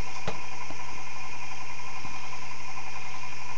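An experimental three-phase energizer with a bigger coil runs as it accelerates, giving a loud, steady electrical hum and whine with a few brief clicks near the start and no talking.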